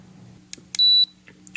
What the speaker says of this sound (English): you're wondering what all that beeping is. Setting on my digital torque wrench here.